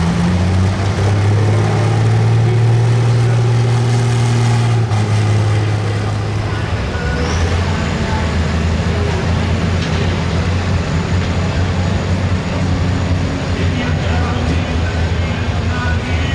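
A John Deere Pro Stock pulling tractor at a 10,000 lb tractor pull in Monticello, Iowa, roars loudly and continuously with a deep drone, while a voice talks over the engine noise.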